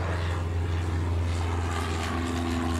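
Propeller airliner engine drone in the Airport Madness World Edition game at Honolulu, a steady loud hum with a low rumble holding throughout as the plane rolls for takeoff on the runway.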